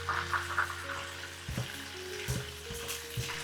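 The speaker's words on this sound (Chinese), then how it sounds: "把另外的一面也同樣的煎制一下。" Shrimp pan-frying in oil for garlic prawns, a steady soft sizzle running throughout with a few brief clatters of a utensil against the pan.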